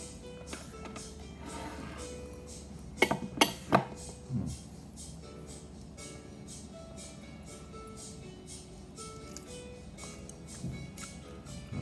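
Utensils scoop shrimp soaked in fish sauce from dishes, giving a quick cluster of light clinks and taps midway, otherwise quiet with faint handling noise.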